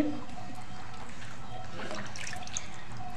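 Goat meat is washed with water, bringing a steady trickling and splashing with faint drips and handling noises, close and moderate, under a continuous background hum.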